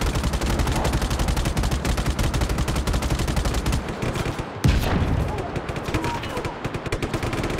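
Rapid, continuous machine gun fire from the video game Just Cause 3 rattles loudly throughout, a dense stream of shots with a brief gap and a heavier blast midway.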